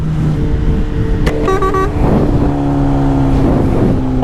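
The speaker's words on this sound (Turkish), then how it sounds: "Arkandan motor geliyor" On a motorcycle ride in Marmara Ereğlisi, another motorcycle comes up from behind amid loud road traffic and engine drone, with a brief horn toot partway through and rising engine tones near the end.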